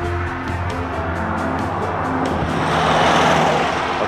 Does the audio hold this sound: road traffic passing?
yes